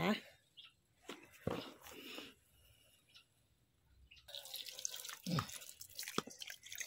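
Water poured into the pot of a newly bought Caladium plant, trickling and splashing in short bursts while someone talks over it, fairly quiet and close.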